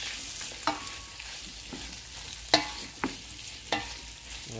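Octopus and cuttlefish sautéing in a pan with a steady broadband sizzle, punctuated by several sharp scraping stirs of a utensil at irregular intervals, close and moderately loud with no voices.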